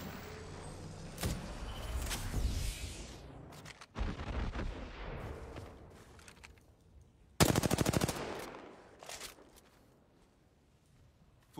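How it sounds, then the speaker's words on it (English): Gunfire in the Apex Legends video game: repeated automatic bursts and single shots, some loud and near, some farther off, with one intense close burst late on and no talking. "I'm taking fire."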